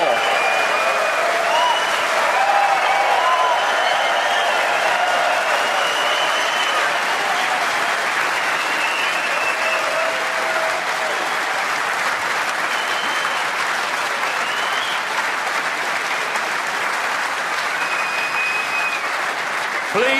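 The Sheffield crowd at the Crucible applauds steadily for a snooker World Championship semi-final, a dense, loud, sustained clapping from a large indoor audience.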